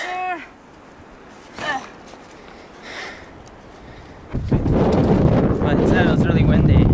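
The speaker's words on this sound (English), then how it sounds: "But it was really windy." Gusty wind near Lago Desierto, Argentina buffets the microphone with rough low roaring that grows stronger and steadier toward the end, after a few short voice sounds earlier.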